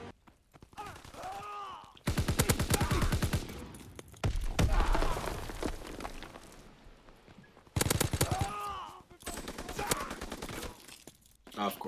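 BAR assault rifle fire in a Call of Duty match, several loud bursts of rapid shots separated by pauses, with game sounds and someone talking in between.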